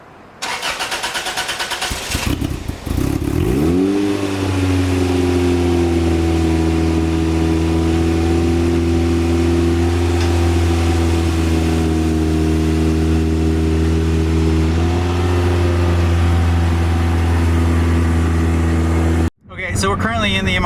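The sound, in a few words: Toyota MR-2 Spyder turbo car driving out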